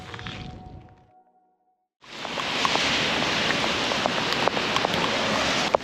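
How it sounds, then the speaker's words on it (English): Heavy rain pours down in the Judean desert near the Dead Sea, a dense, steady hiss of drops with scattered sharper splats, loud and continuous after a brief quiet gap and some faint earlier sound. "it is pouring rain out here"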